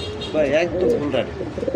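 German Beauty pigeons, black birds among them, coo at a bustling pigeon market, soft throaty warbles rising and falling over about two seconds while people talk nearby.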